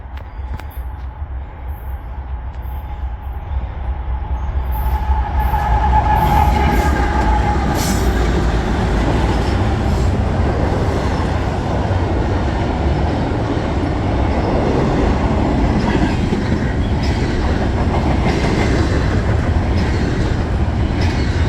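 A long intermodal freight train rumbles past in Massachusetts, building from a distant approach to a steady close roar of rolling wagons with rhythmic clatter and faint wheel squeal.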